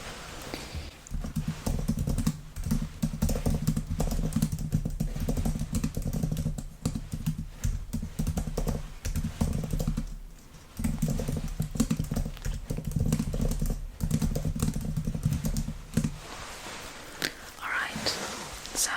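Rapid typing on a computer keyboard in a whispered ASMR medical exam role-play, with continuous close, crisp key clatter and a few brief pauses, sometimes under soft whispering.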